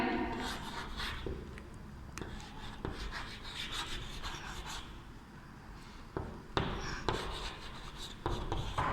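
A pen or marker scratches and taps across a surface while a maths equation is written during an online class, with soft scribbling strokes and occasional sharper taps, close and quiet.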